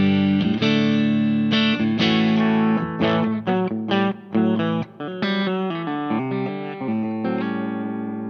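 A Yamaha Pacifica electric guitar played clean through a Bigfoot Drive pedal rings out in a sequence of strummed chords and single notes, loud and close, with no talking.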